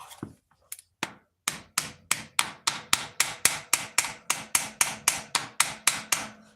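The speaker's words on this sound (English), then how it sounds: "Don't want to beat too hard on this yoke, but a couple taps won't hurt nothing" A tapper strikes a metal yoke in a quick, even series of about twenty sharp, ringing taps, close and loud, after a few scattered knocks at the start.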